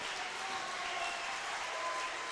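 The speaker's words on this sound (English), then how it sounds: "give him a well-deserved round of applause" A crowd at a bouldering competition final applauds a climber with a dense, steady wash of clapping that holds evenly throughout, heard at a distance without any talk over it.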